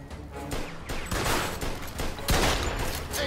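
Gunfire in Mafia II, a rapid volley of loud shots with a heavy blast near the end, dense and close throughout with no talk.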